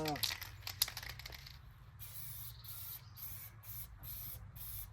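Green aerosol spray paint hissing onto quad parts during a Polaris two-stroke restoration, in close, steady bursts with short gaps, cut by a few crinkling handling sounds.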